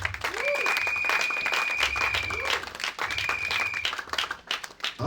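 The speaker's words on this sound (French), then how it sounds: "Acclamons pour le roi des gloires." A church congregation applauds and acclaims during a service, with loud, sustained clapping from a crowd and voices mixed in throughout.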